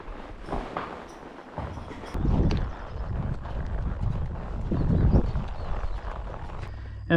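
Horse hooves clip-clop at a barn, an irregular run of steps with shuffling and rustling around them. No voices are heard.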